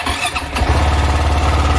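A KTM Duke 690 motorcycle engine cranks and fires up, settling into a steady, loud, throbbing idle close by during a maintenance check, with no talking.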